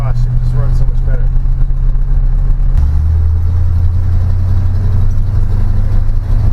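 A Chevy C10 muscle truck with a small-block Chevy V8, running a new carburetor and fuel pump, drives along with a steady loud engine drone that shifts pitch partway through, under faint talk.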